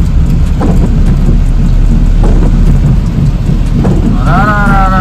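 Heavy rain pours steadily throughout, a dense constant hiss with low rumbling underneath.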